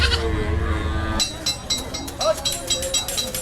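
A goat bleats in short repeated calls amid a busy cattle market at Hozrotpur, with crowd noise and people talking nearby.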